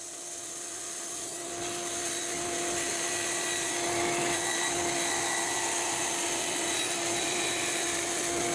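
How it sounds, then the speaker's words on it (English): A handsaw finishing a cut in wood for a Roubo workbench, heard as a steady continuous rasping texture with no distinct strokes, holding at an even loudness throughout. "Then I went back to the bandsaw and finished my cut with the handsaw."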